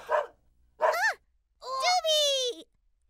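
A cartoon dog voice barks in three bursts, two short woofs then a longer drawn-out howling bark, close and loud, in a children's farm-animal guessing game; it sounds like a performer imitating the dog.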